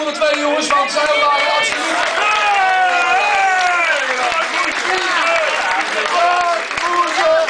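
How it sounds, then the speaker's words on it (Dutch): A crowd at a football club's player-of-the-year awards ceremony applauds loudly and steadily, with cheering mixed in, while an announcer keeps talking over the clapping throughout. "En ook nog een applaus voor onze andere twee jongens"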